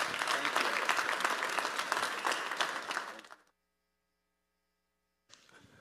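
An audience at an evening school parent program claps loudly to welcome a speaker for about three seconds, then the applause fades into near silence before a softer stretch of sound returns.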